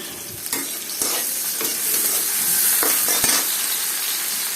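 Onions sizzle loudly in hot oil in a cooking pot for hash-style taro with hilsa fish, with several sharp stirring clacks over a constant close hiss.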